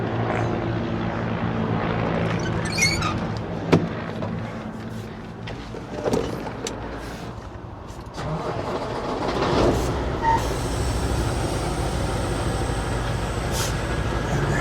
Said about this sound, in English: Comes the next helicopter, and then they just keep going.